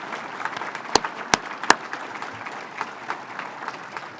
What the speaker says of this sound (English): Let's pause and give these fine folks a round of applause in appreciation for their outstanding service.